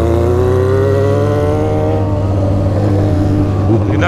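A Suzuki SRAD 1000 motorcycle engine runs loud and steady close by, its exhaust note holding a sustained drone with a slight rise in pitch toward the end, and no talking over it.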